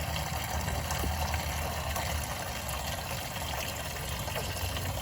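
Engine coolant drains from a 1992 Mazda Miata with a steady, close trickling gush of liquid that runs continuously and evenly, with no talking.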